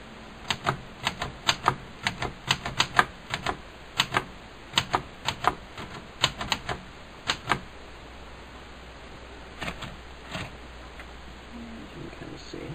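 Key strikes on a Remington portable mechanical typewriter, a quick run of sharp clacks for about eight seconds, then a pause and a few scattered strokes, close and clear over a quiet room hum.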